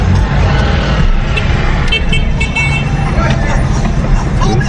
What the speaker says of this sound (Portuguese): as pessoas usam a buzina pra cumprimentar